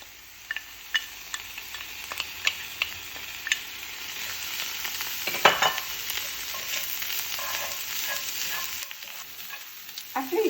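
Dried mushrooms, dried shrimp and dried squid being stir fried in a pan, a continuous sizzle broken by repeated sharp scraping and tossing strokes of the spatula, close and alone without talk.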